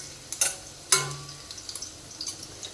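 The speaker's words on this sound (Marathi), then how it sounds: "हलवून घ्या थोडं लसूण। ठेचलेलं लसूण घेतलेलं आहे आपण इथे।" Crushed garlic sizzles softly in a pan as a spoon stirs it, with two sharp metallic scrapes near the start followed by lighter, repeated stirring taps over a faint steady fry.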